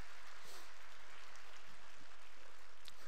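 A church congregation at a New Year revival service claps together in steady, broadband applause that fills the room evenly, moderately distant and without voices over it.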